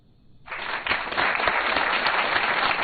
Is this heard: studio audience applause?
yes